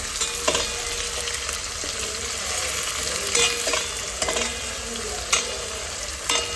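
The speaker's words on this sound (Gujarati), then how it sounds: "તો હવે આપણે એમાં ટામેટું નાખી દઈએ." Tomato dropped into hot tempering oil in a home kitchen sets off a loud, continuous sizzle that holds steady, with a few brief bursts of spattering, close up and with no talking.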